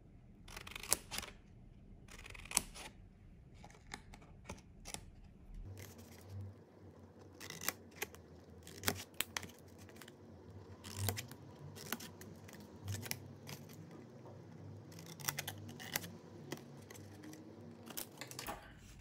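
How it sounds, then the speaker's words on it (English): Scissors cutting V-shaped notches into card stock for a magician's card box: a steady run of crisp snips and paper rustles, close and quiet, with no voices. "And we will cut some V shapes"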